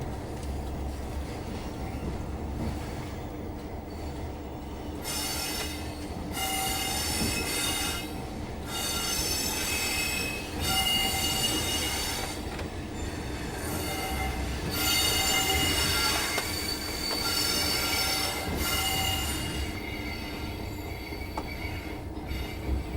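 A model railway train runs at slower speed past exchange sidings in a layout's reception area, with steady rolling rumble and repeated shrill wheel squeals over about twenty seconds, and no talk.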